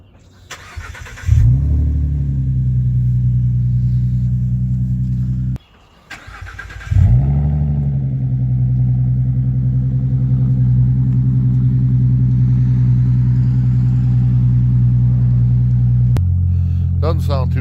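A 2017 Ford Mustang with the 3.7 V6 and an X-pipe exhaust installed is started twice, with a brief crank and flare each time, and then settles into a steady, loud, deep idle rumble that drops slightly at the end.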